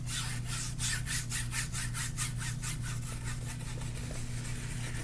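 A brush scrubs paint in quick rhythmic back-and-forth strokes across a black canvas, a steady close-up rasping with regular pulses and no voices.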